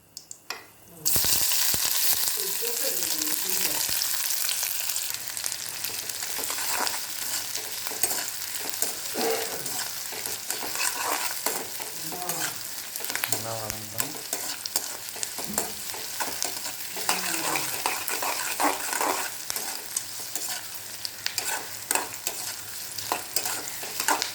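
Onions for an egg masala podimas sauté in a pan with a loud, continuous close sizzle, punctuated throughout by the rhythmic scrape and clatter of stirring.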